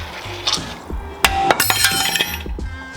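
Metal hammer blows knocking a brake rotor off a Mini F56, several sharp clanking strikes with ringing metallic tails, close and loud, irregularly spaced across a few seconds.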